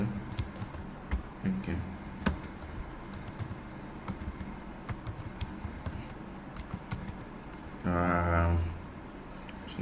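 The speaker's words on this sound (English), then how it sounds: "let me just type something else" Typing on a computer keyboard, a steady run of close, sharp key taps scattered throughout, with a brief spoken word and a short tonal hum near the end.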